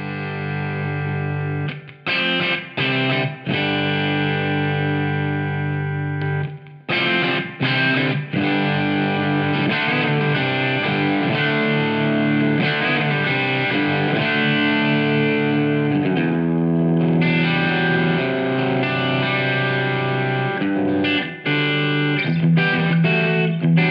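Electric guitar, a Telecaster through a fuzz pedal and a T-Rex Roommate reverb, with heavy distorted tone, playing chords and riffs with short pauses between phrases, loud and upfront with some reverb tail.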